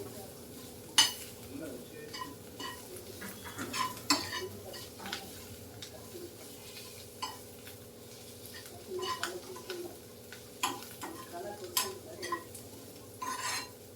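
Cumin seeds fry in a pan for palak chutney, a faint, thin sizzle broken by intermittent spatula scrapes and taps, with birds calling softly in the background.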